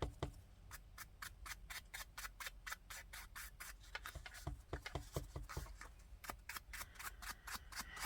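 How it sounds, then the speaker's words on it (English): A brush is worked around the edges of an artist trading card. Quick, soft, rhythmic rubbing strokes repeat evenly, close and quiet. "I'm going to use my brush, and I'm just going to go all around, and I'm going to edge my card"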